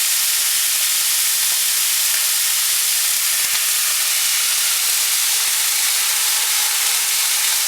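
Vinegar hissing and boiling off in a very hot pan while cooking cherry-glazed pork meatballs, a loud, continuous steam-like sizzle that stays steady throughout.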